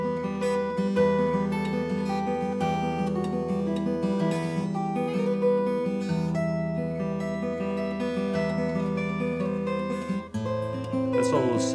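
Classical guitar plays the Spanish Romance (Romanza) ballad, steady arpeggiated plucking over sustained bass notes, close and even in level, with a brief dip near the end before the pattern resumes.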